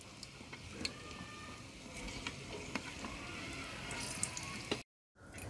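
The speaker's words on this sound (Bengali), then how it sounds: "এভাবে নেড়ে হালকা বাদামি কালার করে ছোলার ডালগুলোকে ভেজে নিতে হবে।" Split chickpeas fry in leftover oil while being stirred, a soft, even sizzle with occasional light scraping clicks, fairly quiet and close, briefly cutting to silence near the end.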